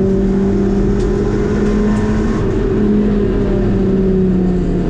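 A GT race car's engine drones loud and steady from an onboard position during a race at Castle Combe, holding an even pitch with slight fluctuations throughout.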